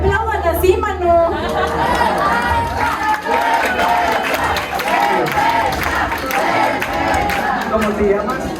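A packed circus theatre audience applauding and chattering together in a loud, steady wash of crowd noise that holds for several seconds, with voices mixed into the clapping throughout.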